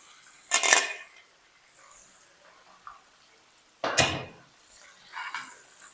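The lid of a pressure cooker used for frying broast chicken is opened in a kitchen. Two sharp metallic clanks ring out several seconds apart, with softer handling knocks and rattles between them.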